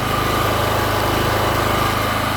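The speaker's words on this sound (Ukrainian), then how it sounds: "генератор працює, але не видає струму." A portable power generator with about 113 hours of use runs close by with no load connected, giving a loud, unbroken engine drone with a fast, even throb.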